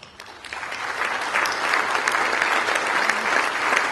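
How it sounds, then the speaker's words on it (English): Sustained applause from an awards-night audience at a manufacturing industry ceremony, the Endeavour Awards, swelling in the first second and then holding steady and dense with no talk over it. "And don't they deserve a round of applause?"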